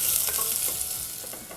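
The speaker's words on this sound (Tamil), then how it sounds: "இப்போ வெங்காயத்தை வந்து கொஞ்சம் லைட்டாக வதக்கிடலாம்." Onions sautéing in a pan, a continuous close sizzle of frying with the scrape of stirring, no voices.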